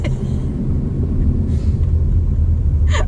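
A 2019 Toyota C-HR engine drones under full throttle as a steady, loud cabin rumble, with a couple of faint voices briefly audible over it.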